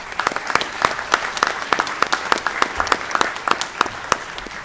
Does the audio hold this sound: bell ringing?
no